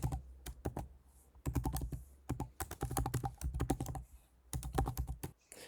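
An email address is typed on a computer keyboard in quick, close bursts of crisp keystrokes separated by short pauses, with no talking.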